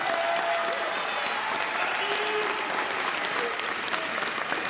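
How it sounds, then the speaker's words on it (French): Audience at the Miss Oise 2021 pageant opening giving loud, sustained applause, dense clapping from a large crowd that fills the whole moment. "j'aimerais que vous applaudissiez bien fort"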